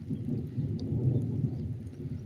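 Steady heavy monsoon rain with a low, continuous rumble of thunder, dense and loud throughout with no voices.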